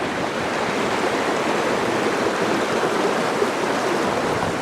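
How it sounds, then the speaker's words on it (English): Water of the West Fork of Bear Creek rushes steadily through a forest after the Bobcat fire, a continuous broadband roar close by with no voices. "This is the West Fork of Bear Creek."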